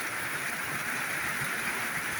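Steady rain falls on a farm where crops grow and a cow stands soaking in the open, a dense, even hiss of drops that carries on without break from start to finish.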